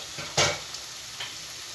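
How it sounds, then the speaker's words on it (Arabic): Chicken pieces frying with onion in a pan hiss in a steady close sizzle, broken by a sharp scrape of stirring and a few lighter clinks. "نزيدو معاها قطع الدجاج هذوك كيما راكم تشوفوا، قلونا كامل مع البصله"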